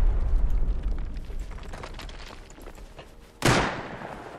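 Rocket explosions in the game Rust: a rumbling barrage of blasts fades over several seconds, then a sharp, loud close impact erupts and decays, with no voices.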